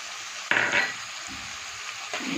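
A spatula scrapes and stirs green peas into a fish curry with cauliflower and potato frying in a kadai, a sudden clattering stir followed by soft sizzling and another scrape near the end.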